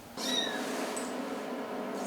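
A tricolour cat at a shelter for animals evacuated from Kherson gives one clear, close, rising-then-falling meow, then faint shorter cries against a hushed room.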